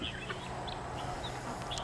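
Chickens cluck in short bursts over a steady low background, close by and fairly quiet, with no voices.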